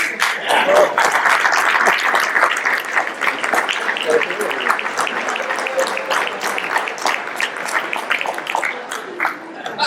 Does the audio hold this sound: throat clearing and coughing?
no